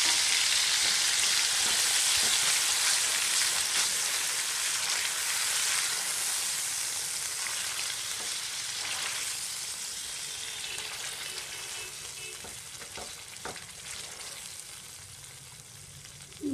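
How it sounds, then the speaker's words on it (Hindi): Masala spices for egg curry fry in oil over a low flame, giving a steady, close sizzle that stays constant for the whole stretch and fades only slightly toward the end, with no one talking. "फ्लेम को धीमा रखें और धीमी आंच पर मसालों को भून लें"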